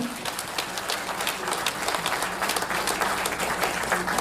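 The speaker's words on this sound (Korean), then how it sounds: "여러분도 그렇게 생각하신다면 두 분께 응원의 박수 한번 주시죠" Sustained audience applause fills a book launch event for a regional economy strategy book, dense and steady clapping throughout with no pauses, fairly close and even in loudness.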